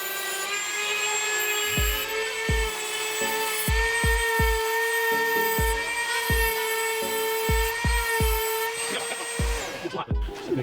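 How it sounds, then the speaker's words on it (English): A small Dremel rotary tool grinds the tip of a metal pin, its high motor whine running steadily throughout while the bit makes repeated short contact bursts of grinding at close range, the whine falling away at the end. "Let's see if I can do this on the little Dremel."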